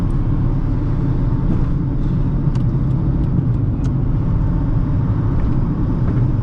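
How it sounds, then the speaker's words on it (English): A 2008 Honda Fit small car drives in traffic, its steady engine and road rumble loud and continuous from inside the cabin, with a few faint higher clicks and noises above the drone. "Driving in such a tiny car head on to that traffic is super sketch."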